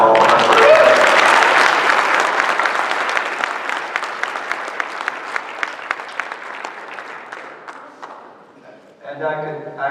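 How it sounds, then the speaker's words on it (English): Audience at a congressional district GOP debate gives a round of applause, loud and dense at first, then thinning into individual claps and fading, with a voice starting to speak at the end. "we owe him a great round of applause for all of us"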